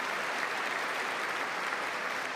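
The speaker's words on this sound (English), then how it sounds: "Every time he steps away, they start clapping." A chamber audience at the State of the Union claps in a steady, dense wash of applause that holds at an even level throughout, with no voices standing out.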